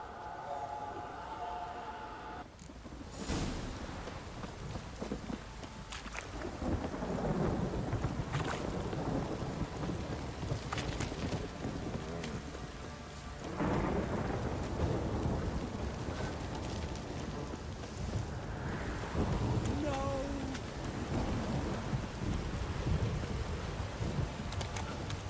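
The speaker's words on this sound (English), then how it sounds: "This downpour's a bastard" Thunderstorm with heavy rain in the video game Witcher 3, a continuous wash of rain and wind with low thunder rumbles swelling in and out, game music faintly underneath.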